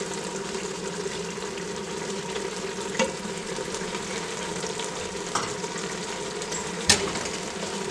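Beef goulash seasoned with Hungarian paprika sizzles steadily in a pan, a continuous frying hiss with a few faint scrapes and clinks as the meat is tossed.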